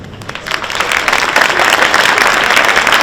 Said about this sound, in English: Let's give another applause to the ROTC and the amazing choir, everybody